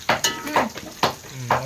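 Onions fry in a pan for a mutton curry, with four or five loud, close stirring scrapes over a light sizzle.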